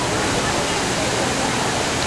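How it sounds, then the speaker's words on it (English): Constant rushing splash of falling water from a park fountain at EPCOT's Land Pavilion, broad and steady, with a faint murmur of voices underneath. "That's one of the fountains here in the park."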